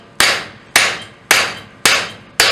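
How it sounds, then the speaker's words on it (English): Five loud, ringing hammer blows on a steel railroad bolt being forged on an anvil, struck at an even rhythm about half a second apart, each ring fading before the next strike. "We'll have to go back to the anvil to dress the sides up a little bit."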